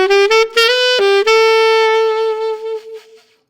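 Saxophone plays a short lick from a song: a few quick tongued notes with grace-note flicks, then one long held tone that fades away, loud and close with nothing else heard.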